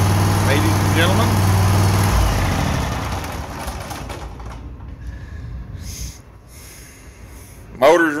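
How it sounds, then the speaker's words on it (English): A Vanguard small engine on a lawn mower runs steadily close by, its loud chugging drone filling the first seconds before fading to a quieter hum, with a brief bump near the end. "Motor's running good."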